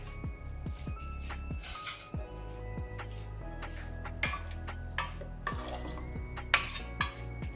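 A spoon stirs lemon juice through prawn curry ingredients in a bowl for a Durban-style prawn curry, giving close, repeated scraping and clinking strokes in a steady rhythm with occasional louder knocks.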